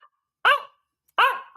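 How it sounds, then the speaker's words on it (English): A dog barks three times in a home setting, sharp, close and loud, each bark separated by a short silence, with no talking over it. "You hear the bark?"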